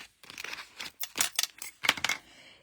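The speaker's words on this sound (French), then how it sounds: "on va prendre nos ciseaux" Scissors snip through paper along a marked line for a handmade label box, a series of short crisp cuts with brief pauses, close and fairly quiet, with no talking.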